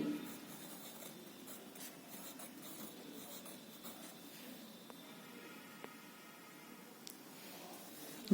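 Pen or pencil writing in an English notebook, a soft, continuous scratching and scribbling heard close up with faint taps, steady and low in level, with no voices.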